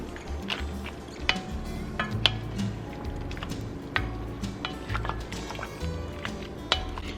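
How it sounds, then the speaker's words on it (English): A spoon stirs minced garlic and chopped onion in a pan, giving scattered scrapes and clinks of metal against the pan over a low cooking background, close by with no talk. "Give that a stir, and we're going to occasionally stir this for about 3 minutes."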